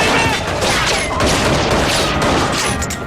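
Dense, continuous gunfire and crashing booms from a superhero TV show fight scene, loud and close throughout with no clear breaks.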